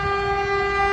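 A Caltrain train approaching Redwood City station sounds a loud, sustained horn with strong steady tones over a low rumble.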